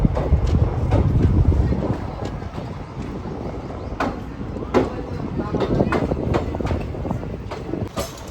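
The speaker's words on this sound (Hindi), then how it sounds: "3 मिनट के देर से हमारी ट्रेन निकल चुकी है मिर्ज़ा रेलवे स्टेशन से" A train pulling away from Miraj railway station, with a rumbling low roar and rhythmic clacks of wheels over rail joints, heard from on board, close and steady, with faint voices underneath.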